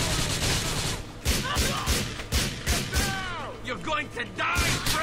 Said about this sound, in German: Wie sie synchron aus der Ecke schießen, am Tisch.